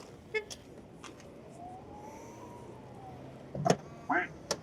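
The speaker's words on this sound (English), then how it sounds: "when it locks, it makes a duck quacking sound." A car locks with a custom duck-quack sound in a store parking lot, a couple of short honk-like quacks near the end after a quiet stretch, loud and close, with a faint whirring tone before.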